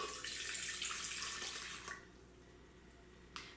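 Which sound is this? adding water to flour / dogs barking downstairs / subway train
adding water to flour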